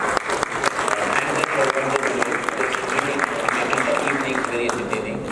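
An audience gives loud, sustained applause to welcome panelists at a live panel discussion event on OTT streaming platforms. Crisp, dense clapping runs continuously, with a voice faintly present over it.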